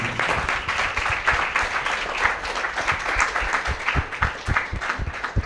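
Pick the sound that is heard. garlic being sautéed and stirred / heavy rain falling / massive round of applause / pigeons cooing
massive round of applause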